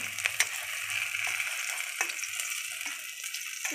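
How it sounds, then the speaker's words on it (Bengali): Eggplant frying in hot oil, a soft continuous sizzle with small crackles and pops, close and fairly quiet. "এই যে বেগুনটা লাল লাল করে ভাজা হয়ে গেছে"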